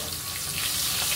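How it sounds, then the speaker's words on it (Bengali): A catla fish head sputters in hot oil, a loud, close, crackling sizzle that holds steady through a brief moment with no voices. "মুড়োটা ছেড়ে দিলাম তেলে।"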